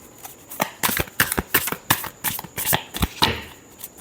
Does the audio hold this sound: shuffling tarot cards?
yes